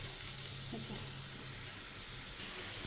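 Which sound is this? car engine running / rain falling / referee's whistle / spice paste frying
spice paste frying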